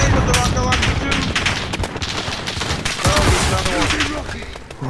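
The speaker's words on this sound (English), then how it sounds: "he's shooting me from too far away" Call of Duty: Modern Warfare gunfire rattles in loud, nearly unbroken automatic bursts, dense and close, with heavy shooting sustained across the whole stretch.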